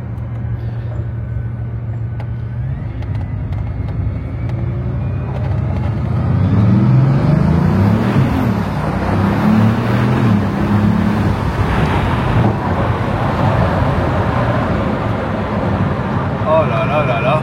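A Bugatti Veyron's W16 engine pulls hard from inside the cabin, a deep loud drone rising and falling under acceleration with stutters as traction control cuts in, while people talk over it.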